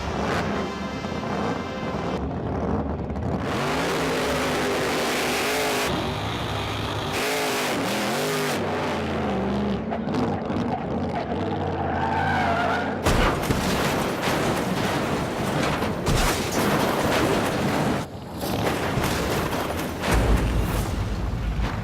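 A 2,500-horsepower 468 cubic inch Hemi engine on a motorcycle roars loudly and continuously, revving up and down with shifting pitch and harsh blasts, close and dominant throughout.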